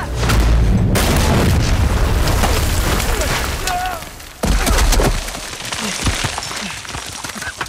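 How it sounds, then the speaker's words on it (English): Exploding mummies in Uncharted 4: A Thief's End send heavy booming blasts through a crypt, loud and rumbling, one after another, with debris crackle and a character's voice cutting in between the detonations. "Exploding mummies!"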